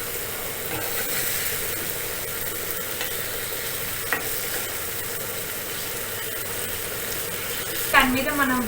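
Paneer tikka fries in a pan with a steady, soft sizzle and occasional stirring scrapes, plus a brief clatter near the end.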